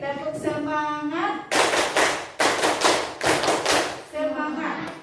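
Indonesian classroom of students doing a rhythmic spirit clap, loud bursts of group clapping in a quick pattern, alternating with a teacher's voice talking between rounds.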